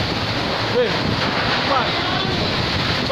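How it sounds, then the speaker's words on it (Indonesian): Strong storm wind roars steadily across a microphone in Makassar amid wind and rain, a loud continuous rushing wash with brief voices speaking over it. "Kencang sekali angin, ya Allah."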